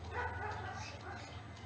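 A dog gives a short bark or yip amid other dogs during a meeting. It is brief and mid-distance, under a low steady hum, and a person talks over it.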